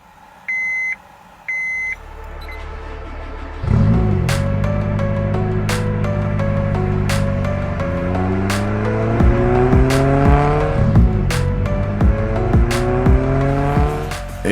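A Honda S2000's 2-litre naturally aspirated F20C engine revs loud and close, climbing to a shrill high-rpm scream in repeated sweeping pulls, after two short electronic beeps at the start.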